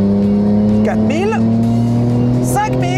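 A Nissan GT-R R34 accelerates hard, its loud engine holding a strong, steady note that climbs slightly in pitch, with someone talking over it.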